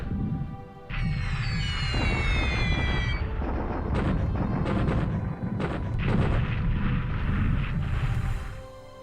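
Heavy anti-aircraft flak fire in War in the Pacific, a loud, dense barrage of booming bursts under a high whistling sweep, sustained for several seconds before tailing off.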